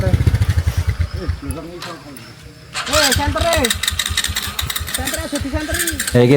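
A motorcycle being taken down a slippery forest path of mossy rocks and soil, its engine loud and close, revving in uneven bursts and idling between them while people talk over it.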